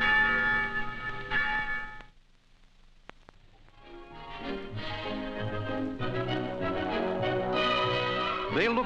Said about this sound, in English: On town meeting day, the church bells bring the people out.